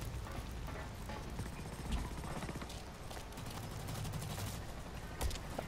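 Light machine gun fire in the shooter game Blacklight: Retribution, rattling out in dense, sustained rapid bursts at a steady, loud level across the whole stretch, with a couple of sharper peaks.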